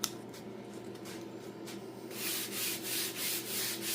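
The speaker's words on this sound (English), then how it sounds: "we're just going to block down the flat areas until you don't see the little divots anymore" A sanding block with 320 grit paper works over high-build primer on a 1958 Farmall 450 tractor, soft rubbing strokes that grow louder and more rhythmic, back-and-forth passes heard up close.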